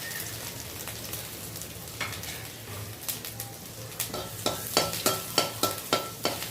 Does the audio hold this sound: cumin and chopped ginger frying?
yes